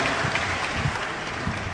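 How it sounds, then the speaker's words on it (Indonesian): An audience at a music gathering claps together in a brief, steady burst of dense, moderately distant applause. "tepuk tangan semua teman-teman sekalian supaya lengkap"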